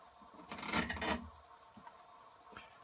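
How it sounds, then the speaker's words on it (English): A model railroad throttle is pulled off a Velcro patch in one short, rasping rip, close and fairly quiet, followed by faint handling noises. "That little ripping sound you hear is the throttle coming off the Velcro."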